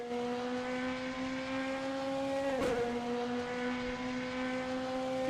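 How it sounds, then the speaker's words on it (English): A British touring car passes at a race meeting with a steady, high engine tone whose pitch dips noticeably as it goes by midway, loud and close, with no talk. "these cars do sound so nice though"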